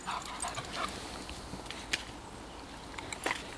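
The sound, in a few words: dog whimpering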